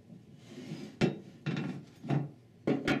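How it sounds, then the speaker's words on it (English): A hammer striking a screwdriver to drive a bushing out of a Ford E4OD/4R100 automatic transmission pump: five sharp metallic knocks at uneven intervals, fairly close, with no voices. "Drive the bushing out with a large screwdriver and hammer."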